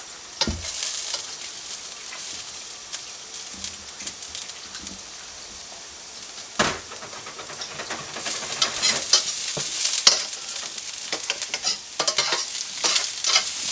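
Chopped garlic sizzles steadily in a hot pan, with sharp bursts of spattering and a few scraping stirs, the frying growing busier toward the end; no one speaks.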